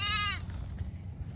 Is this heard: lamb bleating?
yes